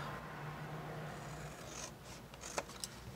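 Scissors slicing through a paper square in a card-making craft session, soft scraping snips close by, with two brief sharper cuts near the end.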